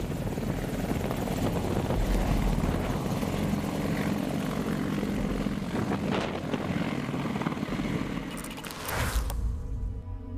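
Steady, loud rotor thrum of an Apache attack helicopter flying close by, a continuous low chopping roar with a brief swell near the end.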